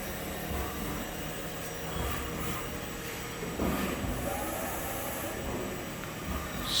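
A Trak vertical CNC bed mill runs its spindle at 2,000 RPM in a workshop, giving a steady, moderately quiet machine hum with faint hiss across the whole stretch and no one talking.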